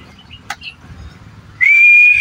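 A loud, steady whistle blown near the end at a pigeon flying derby in Paniqui, Tarlac, following a short sharp tap in an otherwise quiet setting.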